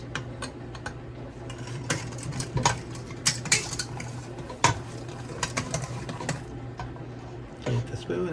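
A spoon stirs cran-apple sauce in a pot, making irregular clicks and scraping knocks against the metal at close range, with a person talking quietly over the stirring.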